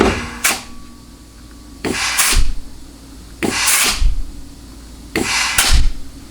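Shop air blasts into the passages of a Chrysler 46RE automatic transmission case in four separate hissing bursts, each set off by a thud and clunk as the drum shifts, loud and close in a quiet workshop.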